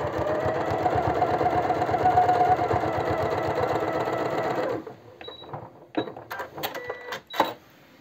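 A sewing machine stitches fabric in a fast, steady mechanical chatter for several seconds, then stops and gives way to scattered clicks and handling noises, close and alone.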